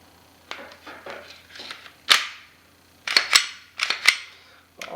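A Glock 22 Gen4 pistol being put back together: a series of sharp, close metallic clicks and snaps, a few light ones first, then louder clacks in quick pairs with short quiet gaps between.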